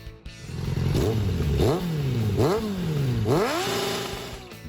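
A Suzuki Bandit 600 naked motorcycle revs up through three or four rising gear pulls, engine pitch climbing and dropping between shifts, loud and close with no talk.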